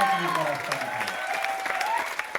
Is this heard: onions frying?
no